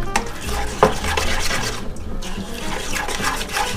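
An egg stirred into ricotta filling for a white crab lasagna, a steady scraping, mixing rustle in a bowl, close and continuous with no talk.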